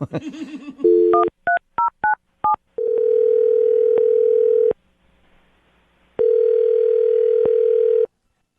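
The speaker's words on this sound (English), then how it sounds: "I'm going to dial him right now, get him on the phone" Telephone call placed on a radio show: a short burst of touch-tone dialing beeps, then two long steady ringback tones separated by a silent gap, loud and clear with no talk over them.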